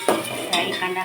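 A spoon scrapes and clinks against a pot while onions are stirred, two quick metallic knocks over a faint sizzle, close and brief.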